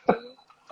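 A single short cough bursts out near the start, loud and close, followed by quiet and the edge of another sound at the very end; used as a signal rather than from illness.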